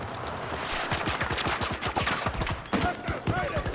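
Battlefield 2042 video game gunfire: a dense, continuous stream of rapid shots throughout, with one louder blast near the end and faint voices underneath.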